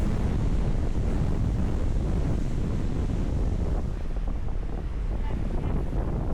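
Wind buffets the microphone while waves wash against a boat in rough water on Port Phillip Bay, a loud, steady roar with surging swells and no speech.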